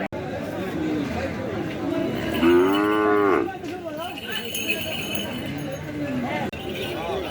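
Cattle at a village cattle market low with one long, loud moo standing out over busy crowd chatter and people talking nearby, with faint clinks in the background.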